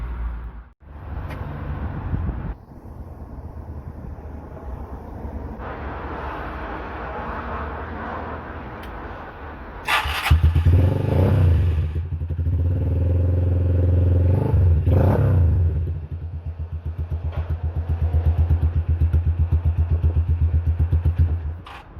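A Lecmoto XTRS 125 motorcycle running close by during a coil pack test, a rough idle that clatters, then a louder stretch of revving and throttle blips before settling back to a steady run.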